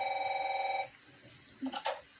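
A telephone rings in a South Park episode: one trilling burst of electronic-sounding ring, loud and close, then a stop followed by faint indistinct sounds.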